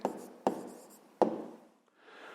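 An answer is written down by hand, with a few sharp pen or chalk strokes followed by soft scratching that fades, close and quiet with no talk.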